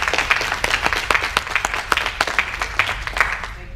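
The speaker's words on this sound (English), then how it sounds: "Round of applause for Ms. Barbara Major." Audience applause at a small business and political candidates gathering, sustained dense clapping from a crowd filling the room at steady volume, with no one speaking over it.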